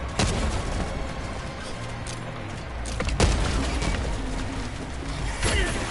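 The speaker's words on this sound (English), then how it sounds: "Throwing grenade!" Grenade explosion amid gunfire in the video game Helldivers 2: a sharp blast lands mid-clip inside a continuous dense clatter of shots and booms, with further loud impacts near the end.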